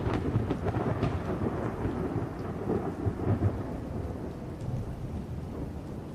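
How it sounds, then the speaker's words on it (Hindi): A thunderstorm with wind and rain gives a continuous wash of heavy rain and gusting wind, with deep thunder rolling through it and no voices. "इतनी आंधी बारिश हो रही है"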